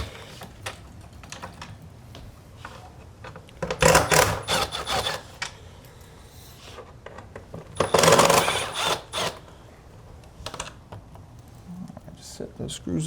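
Close metallic clicks and rattles of a T25 Torx driver taking screws out of the inner structure of a forged carbon saddlebag lid on a 2025 Harley-Davidson Road Glide CVO ST, with two louder scraping bursts among sparse handling noise.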